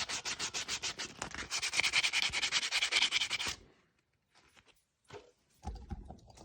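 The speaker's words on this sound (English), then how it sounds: "Let's go ahead and sand the inside a little bit." A 90% silver 1964 quarter coin ring has its inside sanded by hand. Rapid rhythmic rasping strokes run close and loud for about three and a half seconds, then stop, leaving quiet handling noises and a soft knock.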